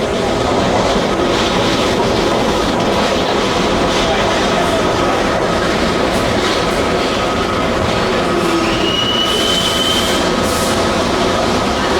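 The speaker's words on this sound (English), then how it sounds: "Going downtown on a subway." A New York subway train riding downtown, loud continuous rumble and rail clatter from inside the car with a brief high wheel squeal, and people talking faintly under the noise.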